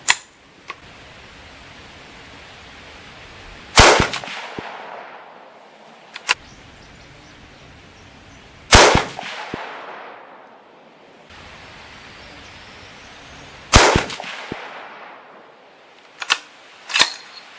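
Rifle shots from a Ruger American firing 165 grain bullets at a range, with three loud, sharp reports spaced several seconds apart, each followed by a decaying echo, plus a few fainter clicks and bangs between them.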